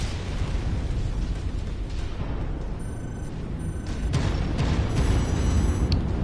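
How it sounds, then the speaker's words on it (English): A missile explosion in the Mechwarrior 5 Mercenaries battle, a loud sustained rumbling blast with crackling debris and distant mechanical noise, fairly steady and swelling slightly toward the end, with no talk over it. "Incoming missile."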